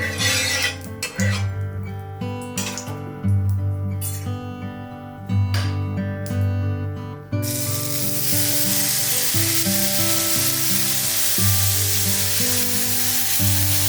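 Uthappa batter with oil sizzles on a hot oiled pan, a loud and steady hiss that swells and then holds for several seconds beneath background music.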